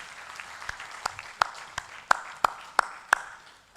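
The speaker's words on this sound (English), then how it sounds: "for which we have to clap again, a second round of clap for this great." Applause at the IGAD-EAC ministerial conference on durable solutions, a second round: sparse, separate claps that sharpen into several loud, distinct hits toward the end, heard in a room.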